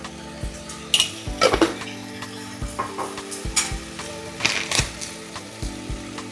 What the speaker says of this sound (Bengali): কাশ্মীরি লঙ্কা ভালো করে নাড়াচাড়া হচ্ছে পাঁচ মিনিট